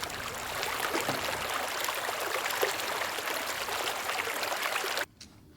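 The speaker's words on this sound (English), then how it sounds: "it's a random container that's playing these river 1 second river clips in a loop" Steady rushing river water flows continuously with a bright, even babble, looped from one-second river clips, then cuts off abruptly near the end, leaving near silence.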